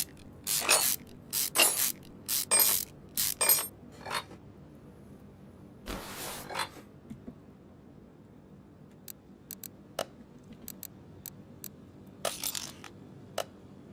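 Bolts being removed from an ABS pump in the game Car Mechanic Simulator, heard as bursts of quick mechanical ratcheting clicks followed by scattered sharp ticks, close and clean with no talk.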